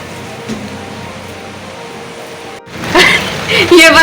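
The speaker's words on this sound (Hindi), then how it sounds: "बारिश अच्छी आ रही है" Steady rain falls outdoors as a constant hiss, with louder splashes and noise toward the end.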